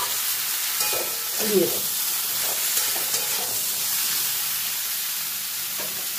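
Eggplant and mixed vegetables sizzle steadily in a hot pan as they are stirred, a constant frying hiss with occasional scraping clinks, while someone speaks briefly near the end.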